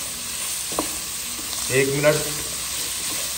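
Vegetables sizzle and fry steadily in a pan for chicken chow mein, a continuous broadband hiss with a couple of brief stirring clinks, while someone talks briefly over the cooking.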